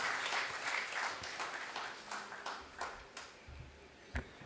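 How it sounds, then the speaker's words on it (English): A conference audience applauds the platinum sponsor Sanlam. A dense burst of clapping thins out into scattered, separate claps near the end. "Another round of applause for our platinum sponsor"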